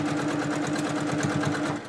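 Embroidery machine stitching binding onto a quilt, a steady rapid mechanical hum with a fast regular needle pulse, moderately loud and continuous throughout.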